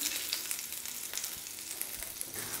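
Ginger and cumin seeds frying in a pan give a fairly quiet, continuous sizzle with small pops and crackles, nobody speaking.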